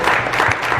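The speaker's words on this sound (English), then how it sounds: "Give yourselves a round of applause" Audience applause at a West Genesee school event: dense, steady clapping from a large crowd, loud and continuous for the short stretch without any voices.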